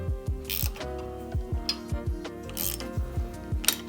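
Wrench tightening a fastener on a wheel rim, a close series of rhythmic ratchet clicks and low knocks repeating steadily, with a few brief metallic scrapes in between.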